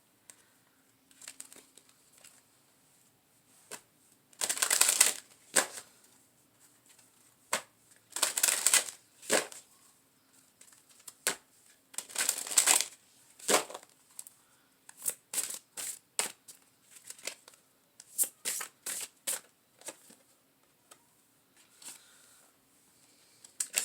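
A Psychic Tarot card deck is shuffled close up in repeated bursts of riffling, slapping and papery crinkling, separated by short quiet pauses, with no talking.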